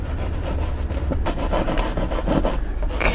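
Dry palette knife scraping across a painting, a continuous rough, raspy rubbing with short repeated strokes, close and fairly loud, with no talking.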